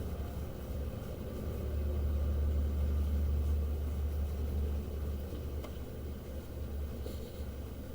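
A rusted DC motor, freshly reassembled after being freed up, runs with a steady low hum and rumble that swells slightly and then holds, fairly faint and with no voices.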